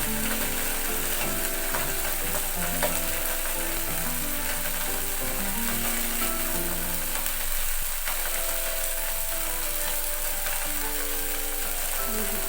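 A keto burger patty frying in a pan, a continuous dense sizzle and crackle holding steady throughout, close and even, with occasional faint clicks.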